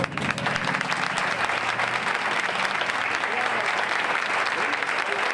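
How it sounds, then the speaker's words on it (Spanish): An audience on a live afternoon program gives loud, sustained applause for the workers, a dense, continuous roar of many hands clapping close up with some crowd murmur mixed in. "Un aplauso para los trabajadores."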